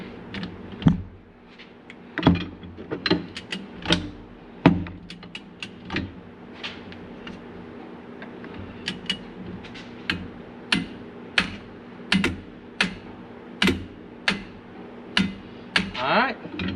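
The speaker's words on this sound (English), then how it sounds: "I'll jump back onto it with the torque wrench" A torque wrench tightens an STM clutch on a Can-Am Maverick, with a run of sharp ratcheting clicks and metallic ticks in uneven bursts, close up over a faint background hum.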